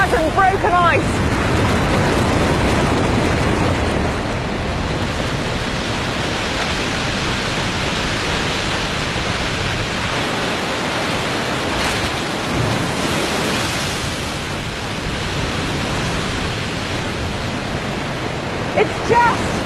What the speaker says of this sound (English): it is pouring and pouring over the waterfall in this great dramatic jumble of mud and broken ice